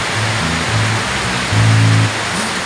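Heavy rain pouring down outdoors on a farm visit, a dense, loud, steady hiss of rainfall with faint low rumbles underneath.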